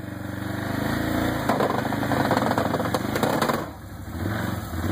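Engine of an off-road vehicle rock crawling at Brown Mountain OHV on easy throttle, a close, steady rumbling drone that swells slightly, then eases back before picking up again, with no talking.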